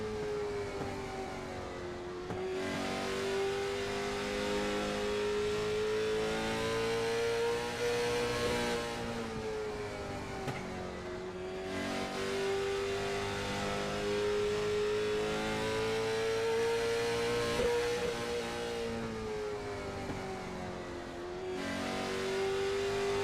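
Late model race car engines in the iRacing sim scream around North Wilkesboro, one loud, close engine holding a high steady whine that dips and surges with each lap's throttle lifts and acceleration, with no talk over it.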